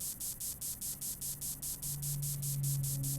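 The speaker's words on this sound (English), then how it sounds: "Stop spraying me." A decontamination spray in the video game Changed hisses in a rapid series of evenly spaced bursts that then merge into one continuous hiss, over a low electronic hum.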